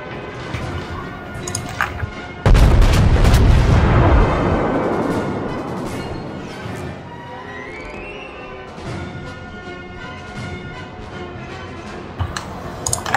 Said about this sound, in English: I'm taking a lot of fire here.